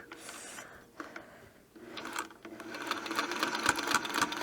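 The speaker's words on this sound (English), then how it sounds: "let's just take a few stitches here" A quilting sewing machine with a ruler foot runs a few stitches, its mechanical whirr and rapid clatter rising and growing steadier and louder toward the end, close up with no speech.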